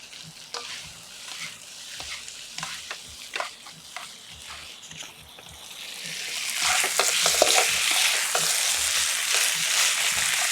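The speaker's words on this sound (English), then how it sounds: "And all that goodness out of those onions sweating down right there." Chicken and onions fry in a pan with a crackling sizzle and occasional stirring scrapes, the hiss swelling louder and brighter in the second half.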